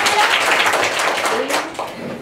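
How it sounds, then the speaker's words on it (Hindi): Children in a storytelling session clapping for themselves, a dense patter of small hands close by that tapers off near the end, with some voices mixed in. "शाबाश, तालियां बजाओ अपने लिए"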